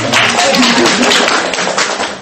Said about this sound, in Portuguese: Uma salva de palmas para Paula.